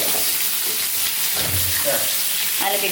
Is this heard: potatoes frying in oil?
yes